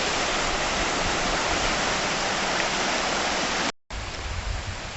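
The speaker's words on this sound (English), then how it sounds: "Creek flowing by. Very cold creek." A cold, fairly low creek flows past a campsite, making a steady, dense rushing wash that is close and loud, with a brief dropout near the end.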